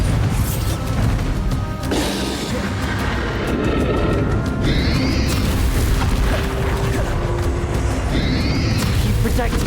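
Spell explosions from the Bombarda curse in the Hogwarts Legacy video game boom and crash through a dense, continuous wash of combat effects, with swooshing magic and a voice speaking over the din.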